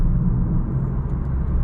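Low, steady engine rumble from a car cruising in sixth gear at low RPM, a deep continuous drone with road noise inside the cabin and no talking.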